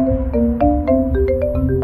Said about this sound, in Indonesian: Dia melihat handphonenya benar-benar berdering 3 kali dari ibunya.